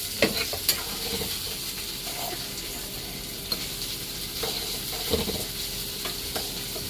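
Boiled, peeled potatoes are stirred in a sizzling pan for an aloo matar flower sabzi, with a spoon scraping and tapping at irregular moments over a constant close frying hiss.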